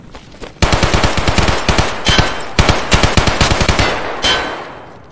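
Automatic gunfire in Escape from Tarkov, loud rapid bursts of shots cracking in quick rhythmic strings across several seconds, close and sharp, with brief gaps between bursts and no talk over it.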